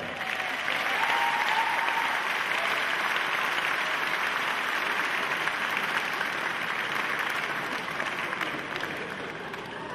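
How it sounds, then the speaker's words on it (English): A large audience at the Liverpool Philharmonic hall gives a loud, sustained round of applause that holds evenly for the full ten seconds. "so give him a big round of applause."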